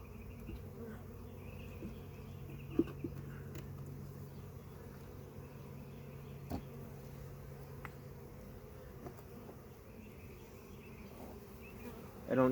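Honeybees hum steadily around an open beehive during a spring inspection, a dense continuous low drone close by with a few faint clicks and knocks, and no voices.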